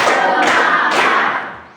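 A classroom of students clapping together in a counting chant, loud bursts of claps with steady rhythmic beats that fade toward the end.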